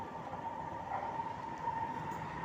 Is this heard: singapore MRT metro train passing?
yes